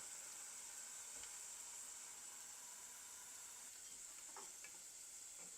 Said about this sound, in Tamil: இது நல்லா ஃப்ரை ஆகட்டும், ஒரு கோல்டன் கலருக்கு. வெங்காயம் பொரிஞ்சு கொண்டு வருது.